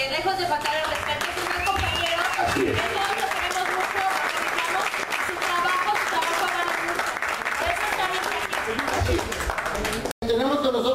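Sustained audience applause at a stage presentation, dense clapping filling the whole stretch at steady loudness before cutting off sharply near the end.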